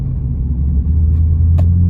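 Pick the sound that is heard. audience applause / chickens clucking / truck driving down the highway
truck driving down the highway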